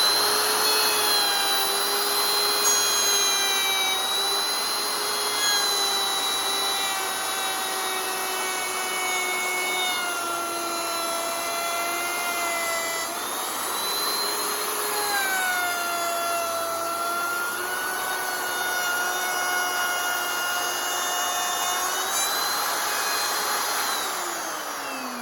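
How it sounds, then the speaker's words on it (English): Electric router cutting a rabbet into wood, a steady high-pitched whine running continuously with slight shifts in pitch as the bit moves along the workpiece, close and unbroken with no talking. "making sure that that router stops before you undo it"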